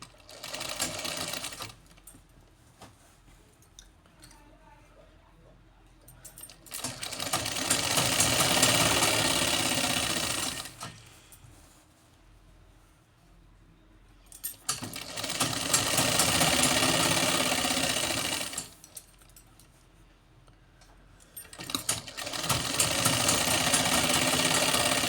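Electric sewing machine stitching a salwar panel, running in three long bursts of steady whirring with quiet pauses between them, close and fairly loud with no talking.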